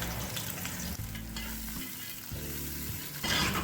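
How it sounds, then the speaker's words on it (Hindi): Chopped onions hitting hot oil in a pan on the stove, a loud steady sizzle and crackle with stirring clatter, rising briefly as the onion settles in; no talking. "अब हम इसमें प्याज ऐड करेंगे।"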